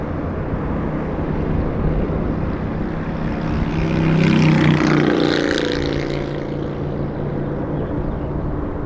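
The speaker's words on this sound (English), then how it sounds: "Motorcycle passed right next to us as I pump up the sound." A motorcycle passes close by at Los Angeles International Airport, its engine rising to a loud peak mid-way and then fading, over a steady roar of aircraft engines and airport noise.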